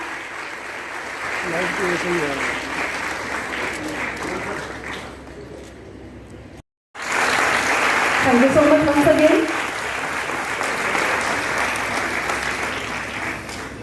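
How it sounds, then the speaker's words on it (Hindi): Loud applause from an audience fills the scene, briefly cutting out mid-way before resuming; a person speaks over the clapping near the end. "ऑडियंस हाथ ऊपर करके तालियां बजाइए जरा."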